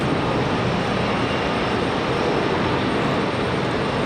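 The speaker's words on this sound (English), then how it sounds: "F-15 on final" An F-15 fighter jet on final approach at Raleigh-Durham airport, a loud, steady, broad engine roar with no breaks, heard from a distance.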